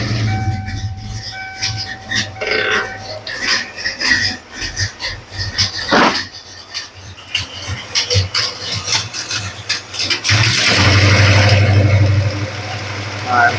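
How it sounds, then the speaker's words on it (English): A Ford car whose 3G alternator is not charging cranks over and catches into a loud, steady idle near the end, after a stretch of clattering handling noises and a voice talking. "So if I start the car,"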